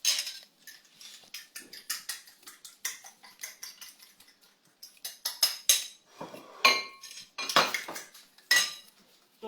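A knife chopping onions on a cutting board while preparing scrambled eggs, irregular close taps and clicks arriving in bursts, some quick and clustered, with no voices.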